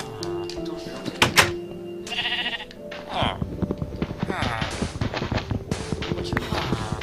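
Sheep bleat in a video game, several distinct calls mixed with thunks and game sounds, close and fairly loud as a player talks over them.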